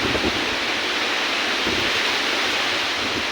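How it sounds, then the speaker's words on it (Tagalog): Typhoon Opong lashing Mindoro with strong wind and rain, a dense steady roar of gusting air and downpour buffeting the microphone, loud and unbroken throughout with no voices. "sobrang lakas ng hangin"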